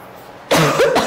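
A single loud, close cough that breaks a quiet kitchen moment of making donuts, harsh and throaty, lasting under a second.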